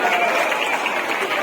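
Steady crowd clapping from an audience welcoming officials at a tribal day gathering in Mungeli, a brief even wash of applause at moderate level with voices mixed in.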